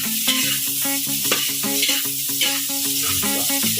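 Garlic and ginger sauté in a pan toward golden brown, a steady close sizzle broken by repeated clinking of a utensil stirring against the pan, with no talk.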